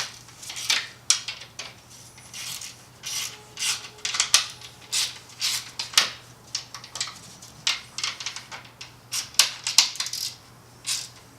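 A fitting on a BMW power steering system is tightened with a hand tool, producing a run of sharp metallic clicks and scrapes in irregular bursts, close and fairly clear, with no talking.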